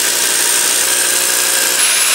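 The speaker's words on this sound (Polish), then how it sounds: "Robię nowy otwór." A power drill bores a new hole for a 32 mm pipe during a house renovation, a steady loud continuous whir that holds without a break from start to finish.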